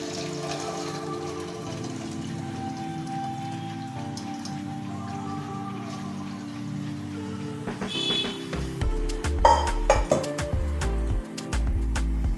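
Boiled vegetable noodles are poured into a strainer. Water gushes and splashes steadily, close by, and grows louder with clattering near the end. No one speaks.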